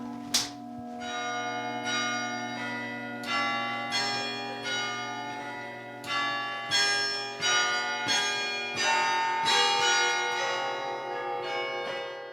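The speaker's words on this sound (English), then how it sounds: "Would you like to play the big bells so I can start?" Large carillon bells of a public instrument in Ames, Iowa ring out in a slow series of rich, sustained strikes, each toll overlapping the long decay of the last, close and full with no talking.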